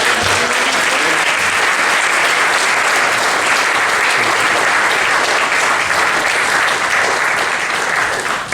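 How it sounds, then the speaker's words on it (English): Loud, sustained applause from a large audience fills a memorial celebration of life, a dense unbroken wash of clapping from start to finish with no voices standing out. "Okay, clap."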